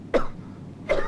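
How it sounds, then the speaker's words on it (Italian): Two sharp coughs about three-quarters of a second apart, close and fairly loud, with quiet between them. "Anche la tosse."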